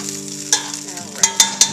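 Bacon and vegetables browning in a pan for beef bourguignon, a close, steady sizzle broken by several sharp clicks and scrapes of stirring utensils.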